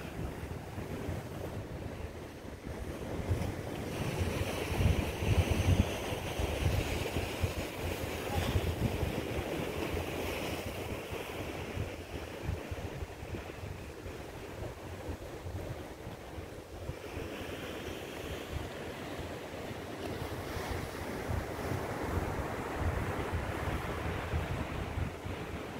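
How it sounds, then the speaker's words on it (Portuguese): Strong wind buffets the microphone over open-sea surf at a rocky beach, a continuous loud roar with waves rolling in steadily throughout. "Até o vento é mais forte aqui, ó."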